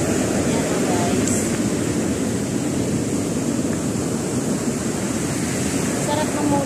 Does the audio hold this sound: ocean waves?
yes